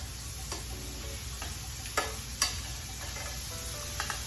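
Salmon fillets for crab and shrimp stuffed salmon sizzle and fry steadily in a pan after being flipped, a soft continuous crackle with a few brief clicks of utensils, no talking.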